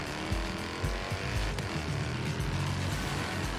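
In Forza Horizon 3, a car revs and accelerates hard on its run-up to a stunt jump, the engine loud and sustained with its pitch climbing through the gears, and no one talking over it.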